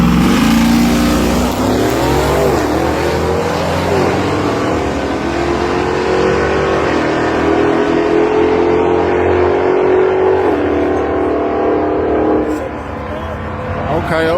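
A drag race car accelerates hard down the strip at Texas Motorplex. A loud engine roar climbs and sweeps in pitch, holding for over ten seconds before fading, while spectators talk nearby.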